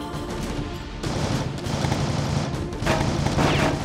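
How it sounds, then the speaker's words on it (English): Mounted turret machine gun firing in the Heavy Fire: Afghanistan shooter game, a loud, sustained stream of rapid gunfire with dense overlapping shots throughout, no voices over it. "when you use the turret like this, just don't let the gun overheat"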